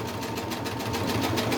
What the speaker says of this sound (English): you do it like on your machine like this to add that decorative element